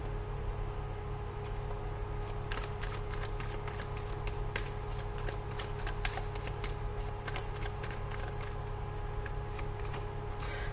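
Tarot cards shuffle softly against a low steady background, settling after a couple of seconds into quick repeated riffling bursts that keep going to the end.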